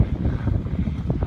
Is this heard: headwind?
yes